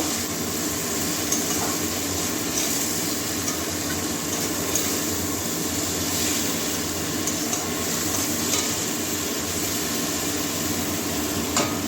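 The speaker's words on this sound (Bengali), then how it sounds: "ভালো করে মশলার সঙ্গে কষিয়ে নেব" Bean and potato curry is stir-fried with spices in a pan, giving a dense, steady sizzle and crackle with soft scraping stirs running underneath, continuous and close.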